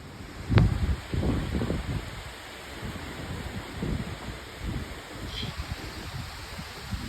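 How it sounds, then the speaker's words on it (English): Strong gusty wind buffeting outdoors in the aftermath of a storm, a rough broadband rush that swells and eases in uneven gusts, with a sharp knock early on and no voices. "Where did this strong gusty wind come from?"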